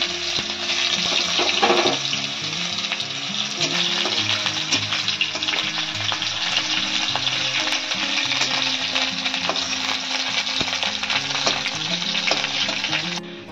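Onion fries in hot oil with cumin in a pan, giving a loud, steady sizzle that carries through the whole stretch, close up, with occasional stirring scrapes and no talking.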